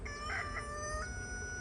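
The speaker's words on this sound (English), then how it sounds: "that oaky rooster in the background" A rooster crows in the distance in the early morning at an outdoor beehive, faint and thin above a steady background hum, with no one talking.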